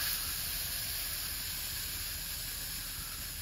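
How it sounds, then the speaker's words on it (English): Insect spray hissing steadily from an aerosol can, a continuous close broadband hiss with no pauses and no talking. "We're just gonna keep spraying."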